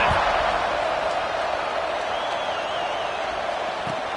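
Stadium crowd in a college football video game, UCLA hosting Cal, keeps up a steady broad roar of cheering through the whole stretch, with a commentator's voice running over it.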